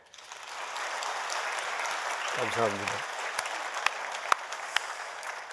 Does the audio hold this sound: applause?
yes